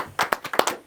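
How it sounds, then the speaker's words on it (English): Several sharp, separate hand claps from an audience at an awards event, close and uneven, about seven in under a second. "Round of applause for Maverick."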